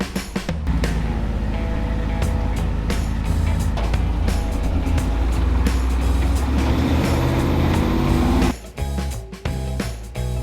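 A Toyota FJ45 rock crawler drives a long dirt road, its engine a loud, steady drone up close with rattles and knocks from the body, easing briefly near the end.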